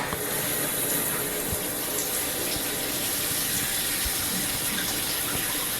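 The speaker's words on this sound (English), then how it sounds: "At this point we can turn on the water and see if it's leaking or not." Steady, continuous rush of water running from a newly installed Kohler Converge shower head, close and even throughout with no voices.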